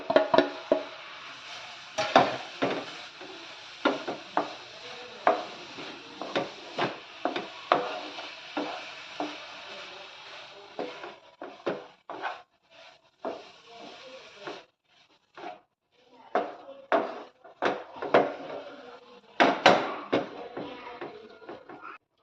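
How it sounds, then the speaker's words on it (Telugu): Spoon stirring grated fresh coconut into hot jaggery syrup in a pan for coconut laddu, giving many irregular scraping knocks close by that thin out and pause midway, then return in a busy burst near the end. "ఈ కొబ్బరిని ఇందులోకి యాడ్ చేసుకొని నిదానంగా చక్కగా బాగా కలుపుకోవాలి"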